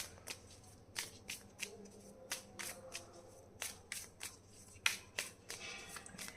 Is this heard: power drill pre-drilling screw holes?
no